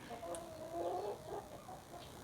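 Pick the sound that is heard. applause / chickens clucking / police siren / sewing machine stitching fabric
chickens clucking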